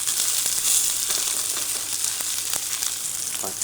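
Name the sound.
steak searing in a hot pan, pressed with tongs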